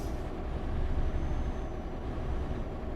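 A heavy truck in Euro Truck Simulator 2 brakes hard, a loud, steady low rumble of engine and air brakes filling a few seconds with no talk.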